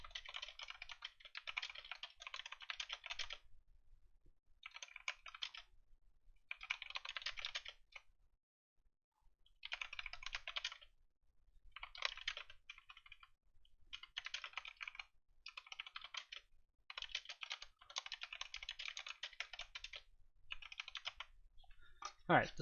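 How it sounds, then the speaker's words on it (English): Bursts of rapid typing on a computer keyboard, quiet and close, with short pauses between runs of clicking keys. "We'll just type up a little description."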